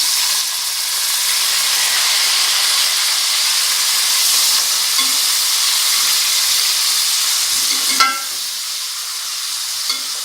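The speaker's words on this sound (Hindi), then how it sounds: "तकरीबन हमने 2 मिनट तक इसको भूना है, लहसुन अदरक टमाटर को।" Steady, loud sizzling of garlic-ginger paste, green chilies and tomato frying in hot oil, a constant hiss with a brief clatter near the end.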